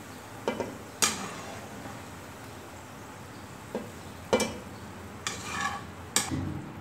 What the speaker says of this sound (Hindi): अब इसको मिक्स करते हैं गोश्त में